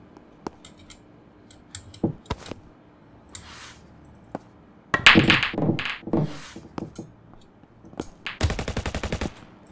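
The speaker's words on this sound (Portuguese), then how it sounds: "é tiro" Gunfire in a shooting game played at an internet cafe: scattered single shots and thuds, then dense bursts of rapid automatic fire, with a long rattling volley near the end, loud and close.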